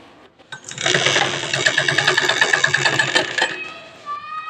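A sewing machine runs in one continuous burst of about three seconds while stitching a kurti, close and fairly loud, then winds down to quiet.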